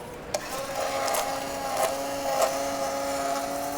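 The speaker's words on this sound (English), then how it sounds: "Then celery root, we're gonna put it in a blender, not blender this time, hand blender." A hand blender whirs steadily through celery root in a kitchen during a culinary showcase, a continuous motor drone with faint shifting pitch and a few light knocks, close and moderately loud without talk.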